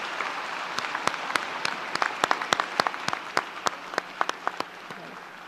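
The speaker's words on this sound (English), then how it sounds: "Can we give them a hand of applause?" An audience applauds in the United Nations General Assembly Hall at a model UN closing ceremony. The clapping is steady and fairly close, with sharp individual claps standing out, and lasts several seconds with no voices over it.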